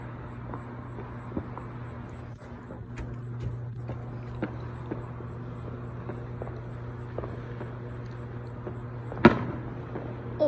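Fireworks bursting in the sky during a long nonstop display, scattered distant booms and crackles over a steady low hum, with one louder sharp bang near the end.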